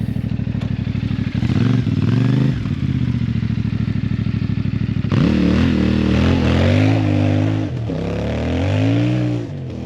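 A CFMoto 450 MT adventure motorcycle rumbles through a slow, tight turn with the clutch slipped, its steady low engine drone dipping and rising with small throttle blips, close and continuous with no talk.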